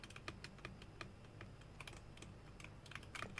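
Fingers type on a mechanical keyboard fitted with brown switches, producing quiet, irregular clacks and taps in quick bursts, close up in a still room with no speech.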